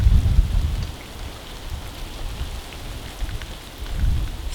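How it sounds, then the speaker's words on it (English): Rain falling outdoors on a cold day in Los Angeles, a steady hiss of drops with soft low rumbling surges, heard alone without talk. "outside is extremely cold right now in LA and it's raining"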